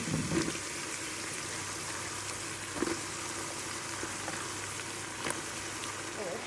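Eggplant pieces hit hot oil in a pan and fry with a steady, soft sizzle, close but fairly quiet, with a few faint clinks and crackles and no talking.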